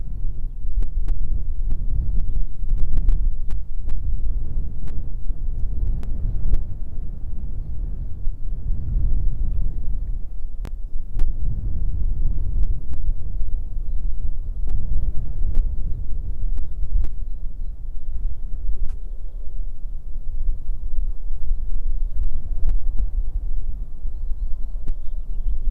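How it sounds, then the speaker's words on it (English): Wind buffets a microphone at an airport in Christchurch, a deep, rumbling, gusty roar that swells and pulses continuously, with sharp crackling pops scattered through it. "Here comes the wind."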